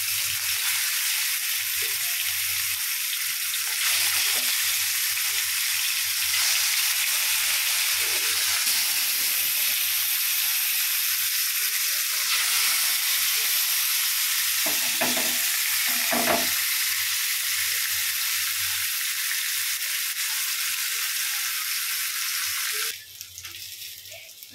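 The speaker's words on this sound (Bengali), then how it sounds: "আমি সবসময় মাছটা চাটুতেই ভাজি" Katla fish pieces frying on a flat griddle pan in a continuous loud, hissing sizzle that holds steady for a long stretch before shifting and thinning near the end.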